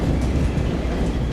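A London Underground train in the Tube Sim video game runs past in an external view, giving a steady, loud rumble of wheels and carriages with no let-up and no talk over it.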